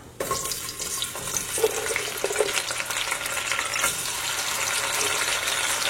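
Cloves, bay leaves and small shallots fry in a pan for mutton peratal, giving a steady close sizzle with occasional stirring scrapes and no talk.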